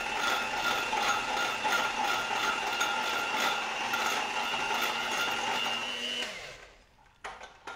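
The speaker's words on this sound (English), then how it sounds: "we'll also start whisking the Amul cream and Amul Mithai Made" Amul cream and Amul Mithai Mate being whisked, likely with an electric hand mixer, a steady loud mechanical whirring that runs continuously for about six seconds before cutting off, followed by a few faint clicks.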